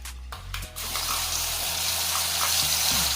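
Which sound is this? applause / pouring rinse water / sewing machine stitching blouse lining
pouring rinse water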